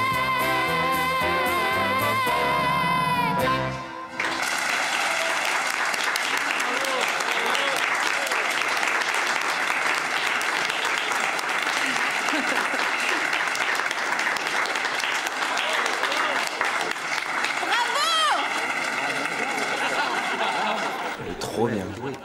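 Audience applause fills most of the stretch, a dense, steady clatter of clapping that follows a short bit of music and carries on with a few laughs mixed in.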